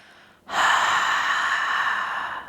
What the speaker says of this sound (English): Hold the fullness and then exhale, let it go.